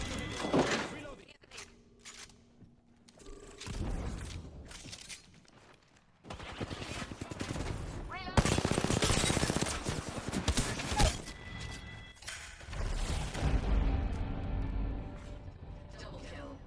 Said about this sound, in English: Wait, whoa, getting shot at.